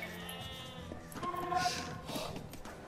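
Sheep in Age of Empires 2 bleat softly several times over faint background game ambience, with the nasal calls overlapping at a low level.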